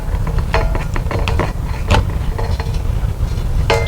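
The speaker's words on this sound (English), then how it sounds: "we're going to unscrew the wire nuts right here so we can remove the old fixture itself. We're going to screw these off counterclockwise." Wire nuts are twisted counterclockwise off the wiring of an outdoor front door light fixture: close, loud, continuous scraping and ratcheting clicks with repeated sharp ticks, and no voices.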